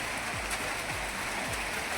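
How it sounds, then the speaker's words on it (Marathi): Heavy unseasonal rain pours steadily over an onion field during a storm, a continuous broadband hiss with low rumbling underneath, no speech. "फास्ट पाऊस वाढायला लागला आता."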